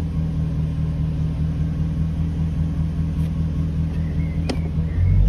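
A Jaguar XK8 engine idles with a steady low rumble, holding even throughout, with a faint click and a slight rise in low-end loudness near the end as the gearbox is shifted into reverse.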